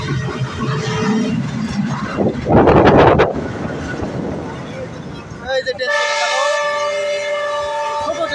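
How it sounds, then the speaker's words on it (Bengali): A freight train rumbles past nearby and its horn sounds in long, loud sustained blasts toward the end, while people talk excitedly over the passing train. "ট্রেন আসতেছে দেখেন ট্রেন আসতেছে"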